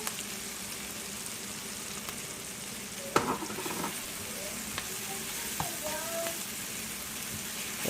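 Beans cooking in a pot as stock cube, Scotch bonnet pepper and crayfish are stirred in: a low steady simmering sizzle with a few sharp clinks and scrapes of the spoon against the pot.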